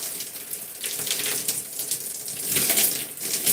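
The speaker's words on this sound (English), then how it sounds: "So just rinsing my hair." Water running steadily while shampoo is rinsed out of hair, close and fairly loud, a continuous splashing wash that swells slightly toward the end.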